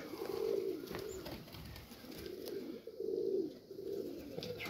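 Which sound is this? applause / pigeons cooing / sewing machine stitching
pigeons cooing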